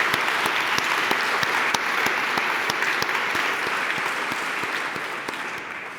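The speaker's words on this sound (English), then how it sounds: "I think we must give a big round of applause to all women in science" Large audience in a festival hall claps in a sustained, dense round of applause for women in science, steady and loud throughout with no talking.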